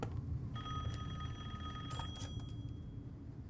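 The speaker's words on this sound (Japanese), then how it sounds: "電話はよ取りや、一服してる暇ないでし" A telephone rings inside the game Resident Evil Village, its bright tonal ring steady and moderately loud over a low, rumbling ambient background.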